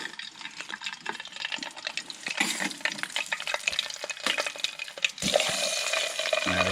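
Turkey liver and heart drop into a pot of water at a hot tent camp during a turkey hunt, with watery splashing and sloshing.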